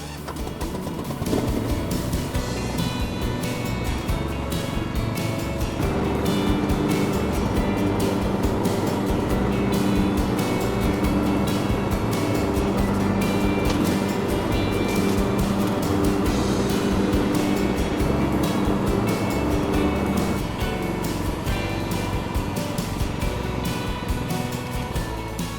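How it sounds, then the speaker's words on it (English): Cobra ride-on lawn tractor mowing grass in side discharge mode: a loud, steady engine drone with whirring blades, continuous and close throughout with little change in level. "I'm just going to show you it mowing in the side discharge mode"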